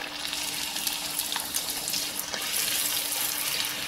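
Puri dough for pani puri (golgappa) frying in hot oil, a steady broadband sizzle with faint bubbling and a few brief splatters, close and continuous with no talking.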